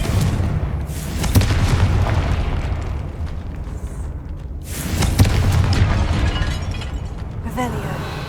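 A Confringo blasting spell explodes in the video game Hogwarts Legacy. Two heavy booming blasts about four seconds apart ring out loud over a background of game ambience.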